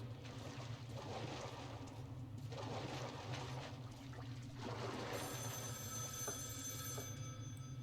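A telephone rings inside Metro Last Light Redux, its bright, steady ringing tone rising over a dense, rumbling game ambience during the last few seconds.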